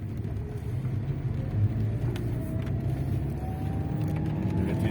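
A Lada Vesta rolls onto asphalt, its engine and tyre rumble a steady, moderately loud low drone with a faint rising whine, no voices.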